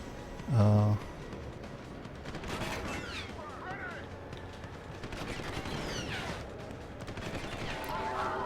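Deus Ex: Human Revolution combat with a pistol firing three times amid scattered gunshots, clanks and impacts, a loud low thump early on, sounding busy and mid-distance throughout.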